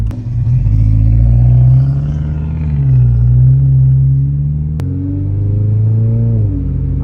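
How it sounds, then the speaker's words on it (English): A Toyota GR86 with an axle-back exhaust drives along, its engine note a deep, loud rumble that rises and falls with throttle, with a brief gear-change break midway before the drone settles again. "I just like having that more aggressive sounding, I guess, engine sound and exhaust sound when I'm driving."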